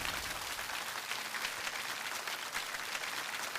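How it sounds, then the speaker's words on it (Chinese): A studio audience at a televised lecture breaks into sustained applause, a dense, even wash of clapping that holds steady throughout without pause or speech. "所以再次把掌声送给我们南极的勇士"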